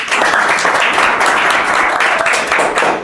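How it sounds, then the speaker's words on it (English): A crowd applauds a speaker called to the stage at a political gathering, with loud, sustained clapping that stays even across the whole stretch and no speech over it. "A round of applause for Mwalimu."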